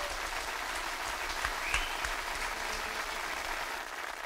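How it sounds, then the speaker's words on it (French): An audience at an accordion gala applauds the accompanying musicians, a steady, moderately distant wash of clapping with a few louder claps, no voices over it. "Donc je vous demanderai de les applaudir encore une fois très fort."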